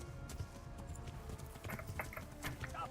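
Horse hooves clip-clop steadily through the medieval world of the video game Kingdom Come: Deliverance, a brisk rhythmic gait of close, distinct hoofbeats over a low ambient bed, with no talk.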